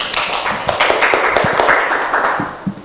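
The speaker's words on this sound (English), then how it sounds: "we give applause for the first group." Applause after the first group's presentation at an energy planning session in East Java: a few seconds of light, scattered clapping from a small audience indoors, moderately loud with a dense run of irregular hand claps.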